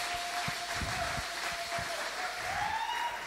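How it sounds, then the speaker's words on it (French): A church congregation applauds, a continuous, even patter of many hands clapping at moderate loudness, with some voices mixed in. "Let's applaud for the King of all kings."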